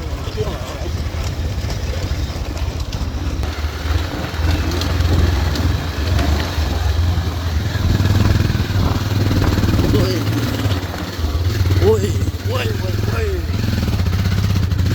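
A motorcycle engine drones steadily throughout, with bumpy rumbling over a rough road toward a waterfall, and a voice talks intermittently over it.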